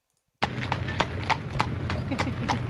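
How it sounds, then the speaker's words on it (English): A horse pulling a cart clip-clops along at a steady trotting rhythm, the hoof strikes sharp and close over a low rolling rumble, with faint talk in the background. "the wheels turn really, because it's pulling the cart pretty easily"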